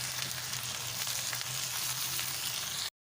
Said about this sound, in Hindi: फिर उसके बाद अब डालेंगे अदरक लहसुन का पेस्ट, इसको थोड़ा हम भून लेंगे।